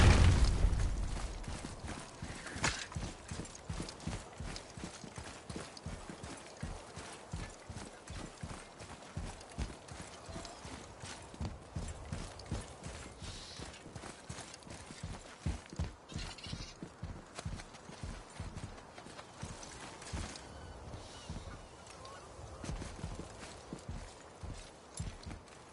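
Horse hooves clip-clop in a steady, rhythmic gait through the God of War video game, continuing for the whole stretch over rumbling game ambience with a few heavier booms.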